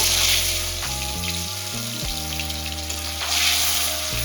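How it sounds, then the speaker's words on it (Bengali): Continuous loud hiss and crackle of fish frying in hot mustard oil, steady throughout with swelling bursts of sizzle, under a droning musical background with no speech. "তো আমার এখানে তেলটা গরম হয়ে গেছে, মাছগুলোকে এক এক করে দিয়ে দেব।"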